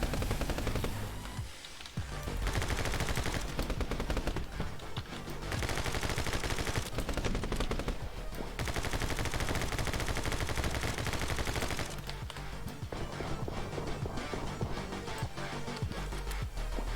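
Dense, continuous gunfire in My Friend Pedro, with rapid pistol shots rattling almost nonstop and only brief gaps, loud and close throughout.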